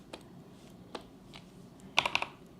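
Keys pressed on a computer keyboard: a few sparse, soft clicks, then a quick cluster of four sharper taps near the end, close up and alone.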